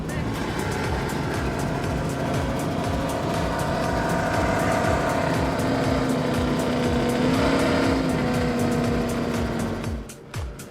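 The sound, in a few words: racing powerboat engines at full throttle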